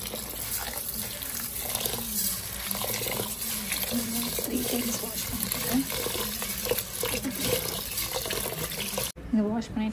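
Rice being washed by hand under running tap water in a sink, with a steady broadband rush of flowing water and soft sloshing of grains throughout, which stops abruptly near the end.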